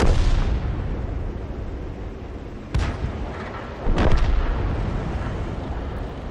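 A heavy SU-122A tank gun in a tank video game fires and lands a direct hit: loud booming blasts with a sharp report near the middle and another burst soon after, over a constant rumbling battle ambience.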